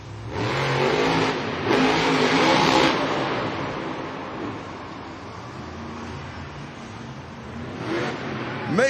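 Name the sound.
monster truck engine revving at Monster Jam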